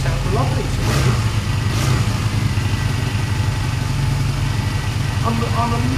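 A restored Honda Benley motorcycle engine idles steadily after starting, a close, even mid-pitched putter running throughout with a couple of faint blips.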